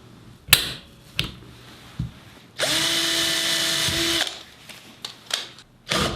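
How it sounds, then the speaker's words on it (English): A step drill bores a pilot hole in a guitar pedal enclosure for a DC jack: a steady, close whirring drill run of about one and a half seconds, with scattered clicks and handling knocks before and after. "I'll use a step drill."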